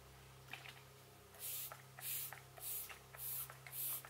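Five short hissing bursts of a coconut setting mist spray, evenly spaced, close by, with light handling noises between them.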